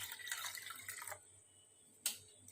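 Cold water from the fridge is poured into a mixer jar, heard as a brief bright splashing rush that stops abruptly, followed by a single short splash or drip, near and fairly quiet.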